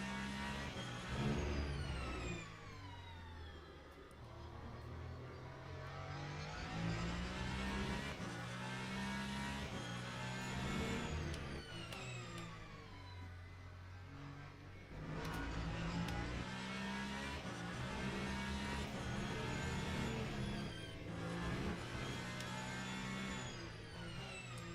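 A Ferrari race car engine in a racing video game drives a circuit, revving loud and steady throughout, with brief dips in pitch as it shifts or brakes for corners.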